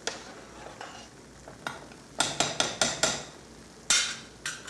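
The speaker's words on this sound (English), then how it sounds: "And stir." A spoon stirring food in a pot, scraping and knocking against the side in a series of close, sharp strokes, spaced at first and then coming in a quicker run.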